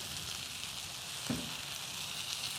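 Chicken for ayam bakar sears briefly over heat with a steady, close sizzle, broken once midway by a short scrape or stir.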